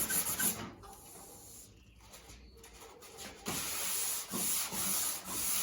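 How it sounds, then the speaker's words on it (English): Varnish being sanded off wooden furniture by hand with 120 grit sandpaper, giving close raspy rubbing strokes that pause briefly and then resume in longer sweeps. "And this is 120 grit."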